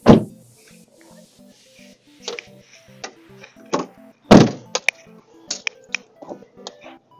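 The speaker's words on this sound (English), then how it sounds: "Now close the door." The door of a small cargo van converted into a camper shuts with heavy nearby thunks, one at the start and a louder one midway. Smaller clicks and knocks come in between.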